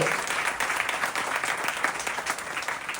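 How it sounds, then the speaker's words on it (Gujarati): An audience at a temple celebration, the 149th Patotsav at Vadi Mandir in Vadodara, claps with raised hands to honour Rameshwarbhai, producing dense, steady applause that runs unbroken from start to finish with no voices over it. "હાથ ઊંચા કરી તાળીઓ પાડી રામેશ્વર ભાઈને વધાવો"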